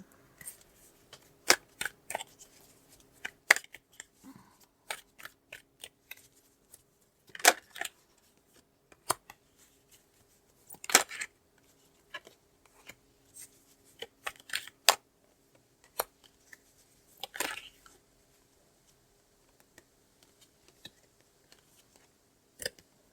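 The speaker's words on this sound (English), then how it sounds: "I'm going to pull some cards with that." Tarot cards shuffled and pulled by hand in a quiet room, giving sparse, soft riffling and snapping bursts spread through the stretch with short pauses between them.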